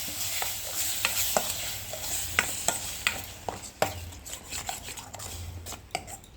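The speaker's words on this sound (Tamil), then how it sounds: "இந்த தக்காளி விழுதையும் இதில் சேர்த்துருவோம்." Ground tomato paste stirred into a hot frying pan with a mushroom and peanut gravy base, a soft sizzle under repeated spatula scrapes and knocks against the pan, close and fairly quiet with no talk.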